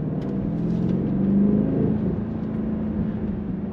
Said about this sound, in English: So I'll actually pop it over into sport mode to see if I can get to hear some engine noises here.